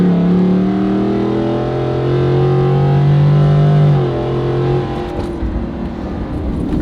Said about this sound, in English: I'm just gonna floor the pedal and see what you guys think.